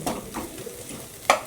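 Coconut oil and chilli powder fry in a pan with a soft sizzle while a spoon stirs and scrapes against it, ending in one sharp metallic clink.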